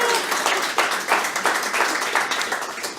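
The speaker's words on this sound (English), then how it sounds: "Big round of applause for Anna." A studio audience applauding a guest on a talk show, a brisk, continuous round of clapping heard up close that holds steady for a few seconds with no talking over it.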